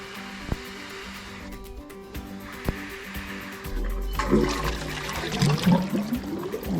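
A water pump runs while pumping muddy water at a building site, a steady low drone with a few knocks early on and louder sloshing, gurgling water filling the last few seconds.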